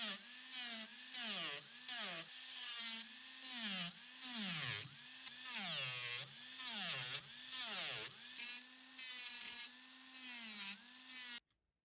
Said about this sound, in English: To shorten the length, I'm using my paddle disc.